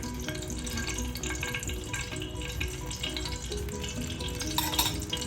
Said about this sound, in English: So to a bit of oil, I'm adding a teaspoon and a little more of ghee.